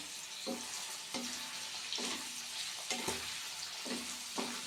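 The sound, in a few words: curry leaves added to chicken liver frying in a pan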